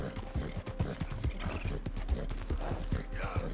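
A horse gallops in Red Dead Redemption 2, with rapid, even hoofbeats thudding close and loud along with faint creaks of tack, continuous for several seconds.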